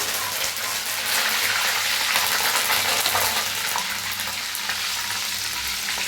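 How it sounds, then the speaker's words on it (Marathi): Curry leaves frying in hot oil for a crisp corn chivda, a steady dense sizzle and crackle filling the whole stretch, close and loud with no talk. "कढीपत्ता तळताना जरा लांब करा"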